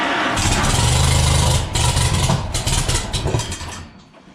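A Farmall M tractor engine cranks hard and tries to fire: a loud, rough, rhythmic chugging with a low pulsing throb that falters, restarts in uneven bursts and fades out near the end.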